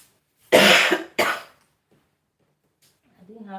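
Two sharp, close coughs come in quick succession in a home kitchen during Nigerian egusi soup cooking, followed by quiet and a brief murmur of voice.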